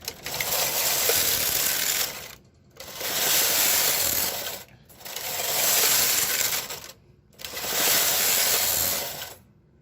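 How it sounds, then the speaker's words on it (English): A knitting machine carriage sweeps across the needle bed in four long passes, each a loud, broad rushing clatter lasting about two seconds, separated by brief pauses as it reverses direction; no voices. "We are going to knit until the knitting machine goes all the way forward"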